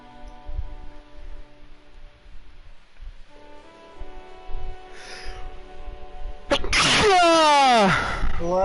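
In the Disco Elysium video game, a character gives one loud, sharp sneeze near the end, after quiet ambient music and faint rustling.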